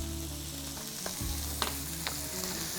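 Chopped garlic and onion sizzle in a hot pan, a steady bright frying hiss with a few sharp pops and crackles, close and alone with no talking.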